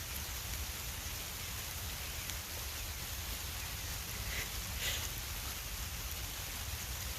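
Steady outdoor rain falling on free-flying cockatiels, a soft continuous hiss of drops with a few faint brief chirps or splashes partway through.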